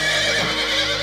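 A horse neighs in a close, loud, drawn-out whinny that lasts about a second, with no speech over it.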